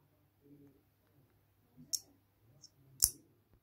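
A magnetic bracelet clasp on a handmade sand-bead cord snaps shut in two sharp, close clicks, the second louder, with faint handling rustle between and no talking.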